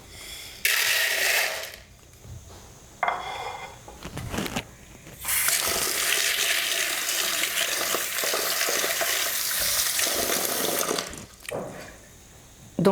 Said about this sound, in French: On va laver les lentilles